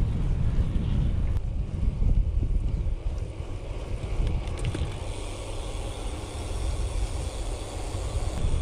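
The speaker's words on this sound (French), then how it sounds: "Et le vent." Wind rushing across the microphone while riding a bicycle on an open road in the French countryside, a steady low buffeting roar that swells and eases slightly throughout, with no talking.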